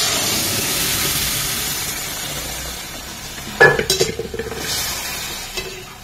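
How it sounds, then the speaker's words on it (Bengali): A wooden dal masher works through cooked lentils in a pot of mango dal, making a short burst of wet, knocking and squelching strokes over a steady hiss of simmering. "ডালটা কিন্তু এখানে ঘুটে নিচ্ছি ডাল ঘুটনি দিয়ে।"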